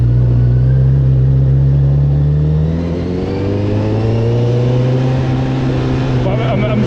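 Honda CB1000R motorcycle pulling away hard from a standstill, a loud, close engine roar whose pitch climbs steadily through the gears, with a steady rumble underneath.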